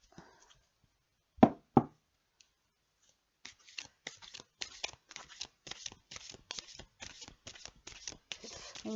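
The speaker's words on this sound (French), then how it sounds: "on va tirer 3 cartes. On va les mettre comme ça." Tarot cards are drawn and laid out one by one on a table. A couple of louder taps come first, then a steady run of close, crisp card snaps and slides, with no talking.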